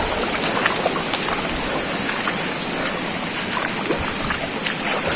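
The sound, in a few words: small stream flowing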